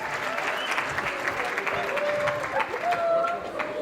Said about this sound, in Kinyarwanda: Amashyi cyane.